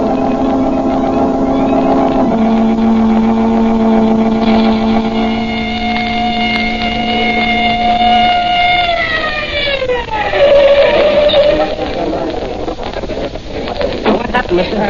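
A police car siren wails, holding a steady tone, then sweeping downward and rising again, loud and close, with an engine rumbling underneath.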